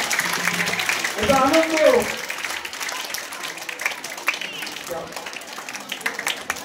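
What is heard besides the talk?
audience applause at a girls' prize distribution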